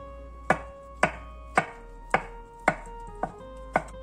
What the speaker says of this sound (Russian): Осталось нарезать их крупной соломкой.